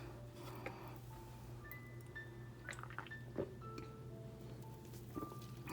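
A sip of sparkling water is taken, faint fizzing crackles and small liquid drips and squishes pattering irregularly over a low steady background hum.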